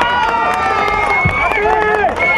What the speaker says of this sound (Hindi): जितने मर्द है एक बार जोरदार तालियां बजाएं।